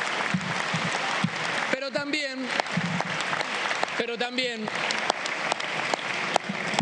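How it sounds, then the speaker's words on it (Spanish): Applause from a crowd of organized workers at an Argentine political event, sustained clapping with a voice speaking over it in two bursts partway through. "un fuerte aplauso para acompañarnos en este día"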